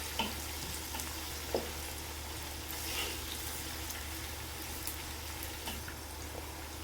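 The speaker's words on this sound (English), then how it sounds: "Stir fry these onions until they turn slightly golden brown." Finely sliced onions stir-fry in a pan with a soft, low continuous sizzle and a few faint scrapes and taps of stirring, heard quietly at a distance.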